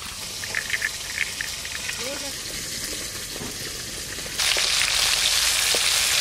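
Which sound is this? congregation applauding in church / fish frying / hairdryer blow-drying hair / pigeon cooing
fish frying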